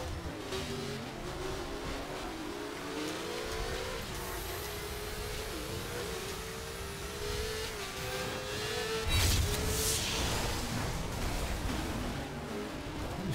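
Car engine revving and droning steadily in The Crew Wild Run, a racing game, with several vehicles idling and surging together, a louder burst of throttle near the end, no talk.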